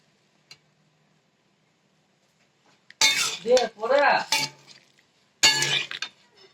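Fried spices tipped from a pan into a cooking pot, with a few metallic clinks and scrapes of a utensil against the pan, then a pause before another clatter; otherwise quiet.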